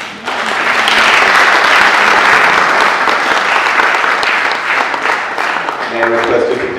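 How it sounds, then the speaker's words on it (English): At a formal agricultural sector ceremony in Tanzania, a crowd claps steadily as a ribbon is cut. The applause swells quickly, stays loud and sustained, and a voice comes in near the end. "let's all clap our hands."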